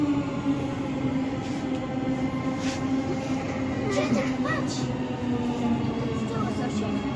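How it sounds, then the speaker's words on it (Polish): A Warsaw metro train pulls into the station with a steady, loud mechanical hum and rolling rumble, plus faint brake squeals and clanks over several seconds, with brief background voices. "Drugie metro przyjechało"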